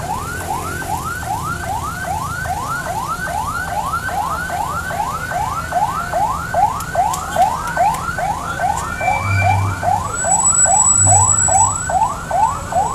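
A wailing ambulance siren sweeps up and down in rapid, regular cycles for the whole stretch, loud and steady over low traffic rumble at a street demonstration.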